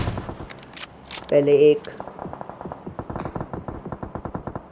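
Rapid bursts of automatic gunfire from a squad match video game, a fast rhythmic string of shots running through most of the moment, with a louder burst near the start and a voice talking over it.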